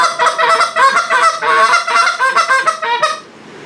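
A goose call fitted with FLEX guts blown in quick, rhythmic honks and clucks, loud and close, a bright, reedy series that breaks off near the end.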